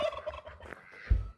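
A chicken riding on a goat in a farmyard gives short fowl calls, with a brief low thump and a closer burst near the end, no talk.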